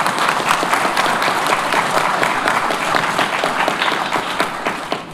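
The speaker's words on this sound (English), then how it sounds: "Can we give our faculty a round of applause," Steady, loud applause from a graduation ceremony crowd honouring faculty at the UVA School of Continuing and Professional Studies, many hands clapping evenly throughout.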